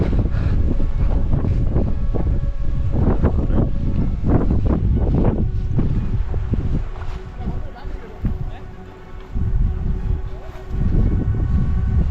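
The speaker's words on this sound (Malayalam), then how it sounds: "ഒരു രക്ഷയില്ലാത്ത കാറ്റ്" Strong, gusty mountain wind roars and buffets the microphone continuously, with brief lulls, while a voice speaks intermittently underneath, on an Agasthyarkoodam trek.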